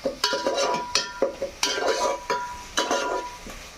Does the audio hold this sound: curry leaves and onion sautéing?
yes